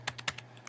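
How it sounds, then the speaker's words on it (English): Fast keyboard typing as an email address is entered into an email program, about half a dozen crisp, close keystrokes in quick irregular succession over a steady low hum, with no voices. "we'll just type in a quick email"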